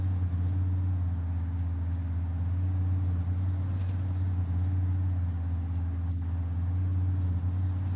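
Interior engine sound of a Lexus GT3 race car in Assetto Corsa, a steady low droning hum held at constant pitch throughout, smooth and unbroken with no gaps.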